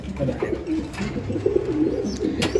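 Beauty pigeons coo softly at close range in a repeated, throaty rhythm, a few low murmuring calls overlapping against quiet background rustles.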